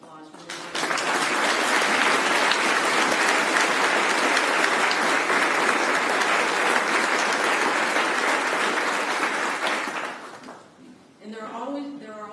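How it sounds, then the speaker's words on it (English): Audience applause at an Army change of command ceremony, a sustained dense wave of clapping from a large crowd lasting about ten seconds before a speaker resumes talking. "please also join me in a round of applause"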